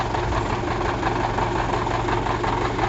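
Tractor engine idling steadily after a cold start, a continuous low rumbling drone with faint knocking that holds even and close throughout, no talk over it.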